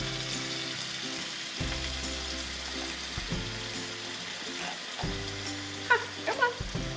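Ground beef and canned tomato paste sizzle steadily in a pan, a constant frying hiss with repeated scraping and stirring sounds and a few sharper clicks near the end.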